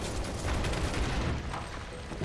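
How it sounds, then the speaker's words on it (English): An explosion in the Final Fantasy VII Remake video game, a sustained loud rumbling blast with crackling debris filling the whole stretch at close range, no voices over it. "It's an explosion."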